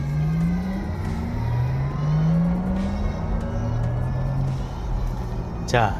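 A Porsche Taycan electric sports car accelerates with a smooth rising synthetic whine, pitch sweeping upward repeatedly under steady road noise, heard from inside the cabin.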